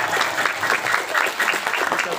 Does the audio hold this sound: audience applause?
yes